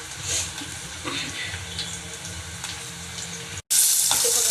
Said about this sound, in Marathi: मी इकडे कांदा भाजायला टाकलेला आहे